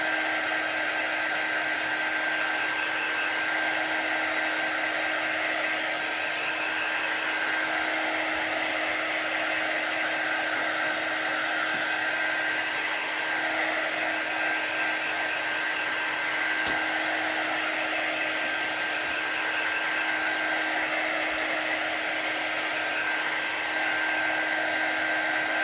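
A hair dryer dries chalk on a chalkboard with a steady, loud, unbroken whir that holds for the whole stretch. No one speaks over it.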